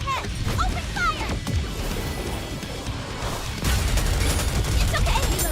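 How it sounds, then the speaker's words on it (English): The Aegis cannon fires in the NIKKE mobile shooter game, a barrage of sharp crashing impacts and rapid gunfire-like blasts that grows heavier toward the end, with a character voice over the battle. "Aegis cannon, full steam ahead! Open fire!"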